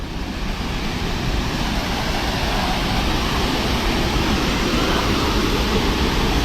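Steady, loud roar of Tangadan Falls, a waterfall in San Gabriel, La Union, a dense continuous rush of falling water with no breaks, heard close and alone.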